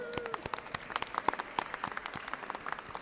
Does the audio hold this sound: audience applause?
yes